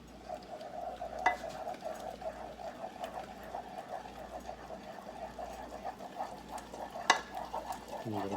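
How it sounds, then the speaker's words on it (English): Flour being stirred into melted butter in a saucepan over medium-low heat, a steady soft scraping and sizzling texture with a couple of sharper utensil knocks against the pan, no talking. "we're going to take our flour, add it in, and we're just going to stir it together"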